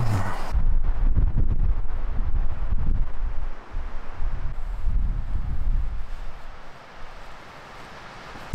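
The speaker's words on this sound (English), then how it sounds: "Windy." Gusty wind buffets the microphone in low rumbling bursts, strong at first and easing off toward the end.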